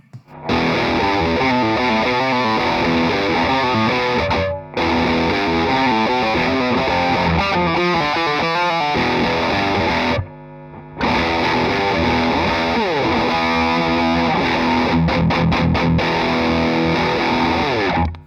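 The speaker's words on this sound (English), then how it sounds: "I'm gonna give you the guitar into the amp first, and then I'll add on the pedal." Heavily distorted electric guitar played through an amp with a mid-heavy pedal, loud chugging riffs and chords with two short pauses, in a metal style.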